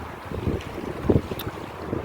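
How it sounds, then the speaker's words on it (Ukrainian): Strong wind blusters over the choppy Dnipro river, roaring into the microphone in uneven gusts with waves lapping beneath, no voices. "Вітерець більший став"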